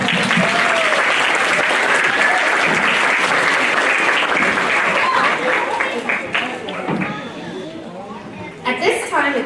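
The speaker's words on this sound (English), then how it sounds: "Let's give you guys a round of applause." An audience at a first-grade school musical breaks into loud, sustained applause mixed with crowd chatter, then the clapping thins and breaks up toward the end.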